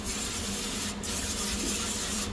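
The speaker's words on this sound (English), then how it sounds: "actually I'm going to spray the pan first." Cooking spray hisses steadily into a baking pan for a couple of seconds, close and continuous with one brief break.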